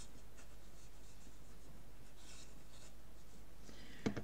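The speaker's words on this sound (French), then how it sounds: "je mets de la colle" Glue is spread on the back of a paper collage piece for a scrapbook album page, making faint, soft rubbing strokes close up in a quiet room, ending with a small tap.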